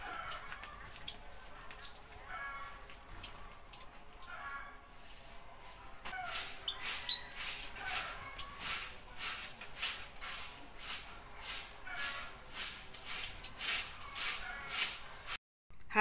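A bird building its nest chirps in quick repeated bright notes, close and fairly loud, growing busier in the second half alongside faint rustling.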